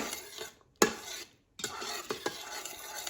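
Tomato sauce being stirred in an Instant Pot: a few close scraping and clinking strokes of a utensil against the pot, broken by short pauses, with no voices.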